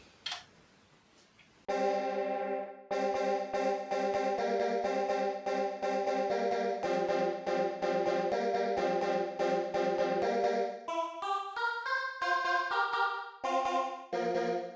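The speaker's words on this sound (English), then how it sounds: "Alright, so this is obviously a choir sound, or alien invasion choir" A Behringer Wave synthesizer choir preset plays a sustained chord, then a series of short stabbing chords, ending with rising brighter notes; clean and alone.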